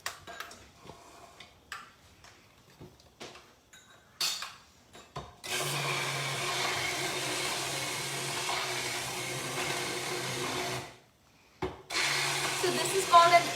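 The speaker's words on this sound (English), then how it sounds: "I'm gonna just blend it a little bit more." Immersion blender whirring through tomato soup, a steady buzzing run of several seconds that cuts out briefly and starts again, after a stretch of scattered ticks and knocks.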